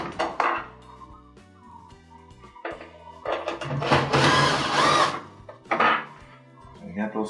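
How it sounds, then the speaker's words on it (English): Two number 2 Phillips screws are backed out of a Whirlpool washer console, heard as close metallic clicks, scrapes and handling clatter with uneven bursts of activity. "So I'm going to go ahead and take out the two number 2 Phillips screws that hold the console down."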